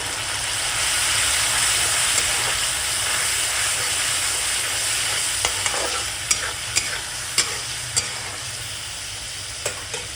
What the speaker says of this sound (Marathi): दोन मिनिटं चांगली आलं लसणाची पेस्ट शिजून द्यायची आहे